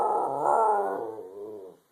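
A puppy growls steadily and loudly up close, the rumble rising and then easing off into softer, drawn-out growling, with nobody talking.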